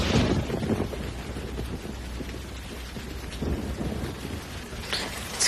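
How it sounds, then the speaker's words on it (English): Steady heavy rain falls alongside rolling thunder, forming a dense, continuous wash of sound with low rumbles swelling and fading throughout and a sharper crack near the end. "it's raining"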